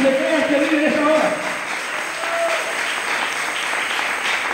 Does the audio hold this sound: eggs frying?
no